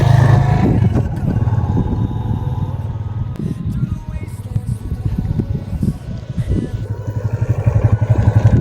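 Yamaha FZ25 motorcycle engine running steadily nearby, a continuous loud low rumble with small throttle swells and no clear pass-by fade, heard alone without talk.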